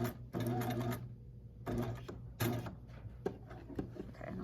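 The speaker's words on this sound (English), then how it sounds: "I'm going to back it up just a little bit, and I'm going to back tack with inside the dart" Sewing machine back tacking inside a dart on fabric, running in several short bursts of mechanical whirring with brief pauses between, close and fairly loud.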